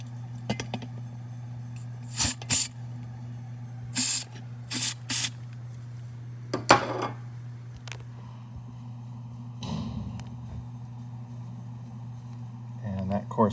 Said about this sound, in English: So we're going to spray this with some dye.